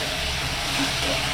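Brinjal sautéing in hot oil for a tamarind-based pathiya kulambu gives a steady, close, even hiss that runs unbroken for the whole short moment.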